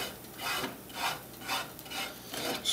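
A spatula scrapes fried garlic and Spam across a hot pan in four or five rhythmic, rasping strokes, fairly close and alone without talk.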